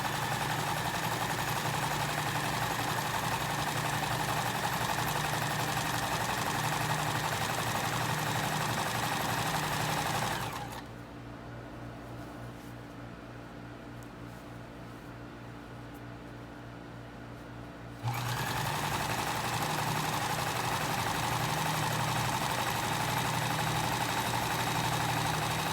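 Sewing machine stitching the hem of a fully lined jumper, a steady mechanical whir running alone for about ten seconds, stopping for a quiet pause, then starting again at the same even pace.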